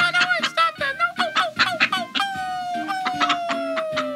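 A chicken clucks and squawks in a kitchen cooking segment, giving a quick run of short, close, loud calls that slide into a longer drawn-out cry, with no talking.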